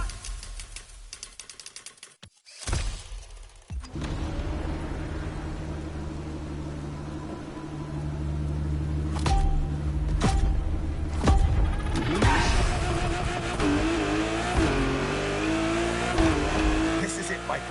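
A car engine in The Crew Motorfest driving game accelerates after a brief lull, rising into a steady, loud revving drone that climbs in pitch and holds through the rest, with a voice speaking over it.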